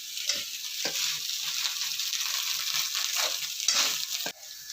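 Ingredients for egg rice sizzle steadily in hot oil in a pan, a continuous bright frying hiss with a few soft stirring scrapes, close and alone without talk.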